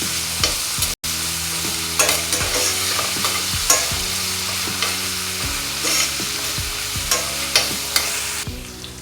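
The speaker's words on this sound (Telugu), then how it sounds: "జింజర్ గార్లిక్ పేస్ట్ వేస్తున్నాను 1 స్పూన్. మొత్తం ఫ్రై చేసుకుందాం." Ginger garlic paste fries with onions for a crab curry, sizzling steadily close up while a spoon scrapes and stirs the pan in repeated strokes.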